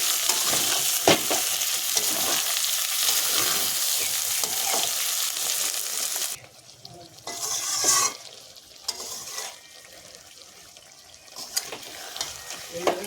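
Fried pangas and tengra fish are stirred gently in a pan with a spatula. A strong sizzle and scraping run for the first half, then drop to quieter, sporadic stirring clatter.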